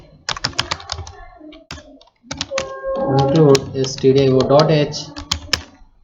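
C program code is typed on a computer keyboard: a run of close, crisp key clicks in quick uneven bursts, followed by someone talking over a few more taps.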